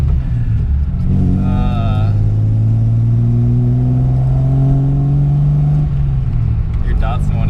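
A 1972 Datsun 240Z engine revs up and holds a strong, loud rumbling note for several seconds before dropping off, with voices talking over it.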